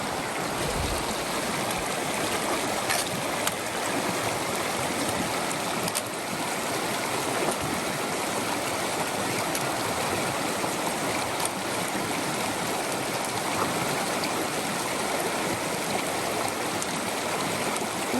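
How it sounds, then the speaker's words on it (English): A mountain stream rushes steadily at a hiking-trail crossing on the Solitude Loop, a close, continuous broadband roar of flowing water with no talk. "this is our first significant stream crossing where we feel like we really should put our sandals on"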